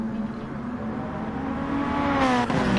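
Race cars in a GT1 racing video game accelerate on track as a Pagani battles to overtake another car, a steady close engine drone rising gradually in pitch and loudness.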